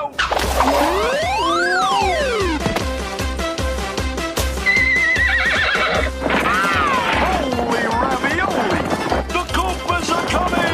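A cartoon horse whinnies in long rising and falling neighs over a busy musical score, with clip-clopping hooves and a few crashing impacts, loud and up close.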